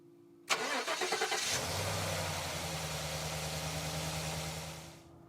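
A Ford F-150 pickup imported from Dubai starts with a brief, close cranking stutter, then its engine catches and settles into a steady, loud idle that cuts off near the end.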